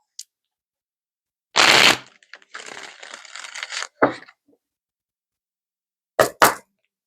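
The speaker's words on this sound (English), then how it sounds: "One more shuffle." Tarot cards riffle and flutter in a few short bursts, with softer shuffling and brief snaps between them, close up and otherwise quiet.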